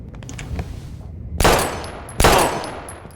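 Two sharp, loud gunshots ring out in Life is Strange, each followed by a decaying echo after a quieter stretch with a faint voice.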